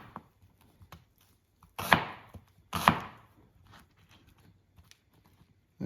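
A knife slicing through a small yellow onion on a board, two sharp distinct chops close up with faint taps between in a quiet room.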